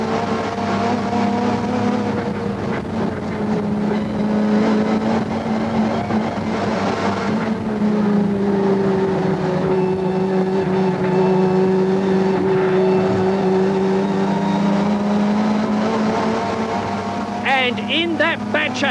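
1988 BTCC touring cars race on track, engines roaring continuously up close with rising and falling revs, while a commentator talks over them.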